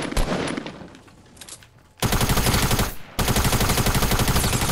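Automatic gunfire in the video game Fortnite, two long, loud sustained bursts of rapid shots after a quieter stretch of scattered game sounds.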